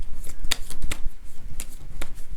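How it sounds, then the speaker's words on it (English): Cards riffle and snap in a quick series of crisp bursts, fairly close, with no voices. "let's shuffle all the title cards"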